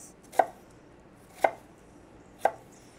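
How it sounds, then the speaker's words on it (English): A knife chops food on a cutting board in three evenly spaced, sharp, close thuds about a second apart, with quiet in between. "Now we're just going to go for it and cut down across the other way."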